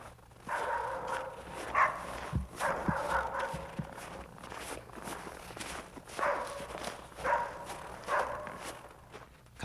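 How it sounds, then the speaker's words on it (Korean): A dog barking in the Baekdu mountain forest during a tiger-tracking trek, short yelps rising over steady footsteps and rustling, moderately near, with no talk. "갑자기 도만이 짖기 시작했다"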